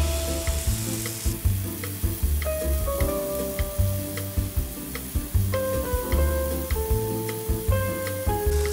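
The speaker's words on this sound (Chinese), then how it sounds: "我哋會一路保持用中火嚟煎。" Hamburger steak frying in a pan over medium heat, a continuous loud sizzle with faint periodic crackles, while melodic background music plays underneath.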